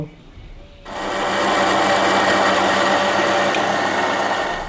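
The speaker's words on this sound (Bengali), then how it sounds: "মিক্সিং জারে ব্যাটারটাকে ভালো করে একটু ব্লেন্ড করে নিয়েছি।" An electric mixer grinder blends palm fruit batter in its jar, the motor snapping on abruptly after a quiet moment into a loud, steady whirring roar that holds to the end.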